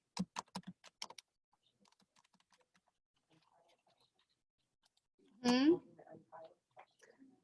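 A few quick computer keyboard keystrokes at the start while entering a first name into a Google Classroom question, close and fairly quiet, followed by scattered soft clicks and a short voice near the end.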